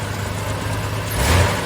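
A Chrysler Valiant CM car engine idles steadily after a carburetor cleanout, a low continuous rumble that swells slightly near the end, heard alone without talk.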